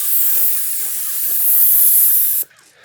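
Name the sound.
airless paint spray gun spraying house siding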